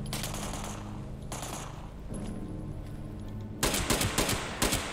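Automatic gunfire in the Fallout 76 video game aimed at a honey beast: rapid bursts of shots with a short pause, then louder, closer volleys toward the end.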